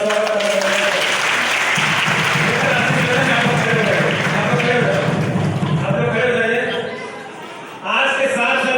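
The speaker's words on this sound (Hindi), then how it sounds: "एक बार इन तमाम बच्चियों के लिए जोरदार ताली के साथ स्वागत करना चाहते हैं।" An audience at a Chero tribal community gathering breaks into loud, sustained applause welcoming the girls, a dense wash of clapping that fades near the end and then briefly swells again.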